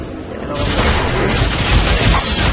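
Gunfire in the video game Warframe bursts in as a dense, loud barrage of rapid shots and booms that runs continuously after a brief quieter start.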